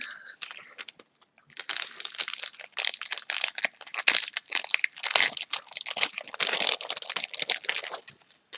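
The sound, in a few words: parcel being opened, paper crinkling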